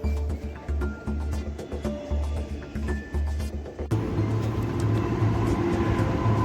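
A train at a railway station in Łódź rumbles and hums with a low rolling drone, a sharp shift midway into a louder, steadier whine as it moves along the platform.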